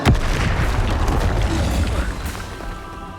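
Confringo spell explosion in a Harry Potter video game, a loud sharp boom at the start followed by a rumbling, crackling blast that slowly decays over a few seconds.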